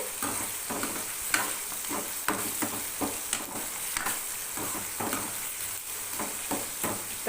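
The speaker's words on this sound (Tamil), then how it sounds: "கொஞ்சம் நேரம் வதங்கட்டும் அப்படியே இப்போது வெங்காயம் வந்து முக்கால் அளவு வதங்கிருச்சு" Onions sautéing in a pan for a spinach kuzhambu, a steady hiss and sizzle with a recurring scrape of a spoon stirring every second or so.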